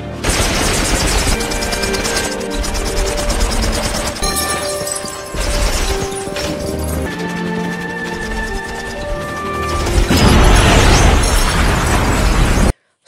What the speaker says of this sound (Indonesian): Saat itulah dia terkena tembakan yang membabi buta dari Max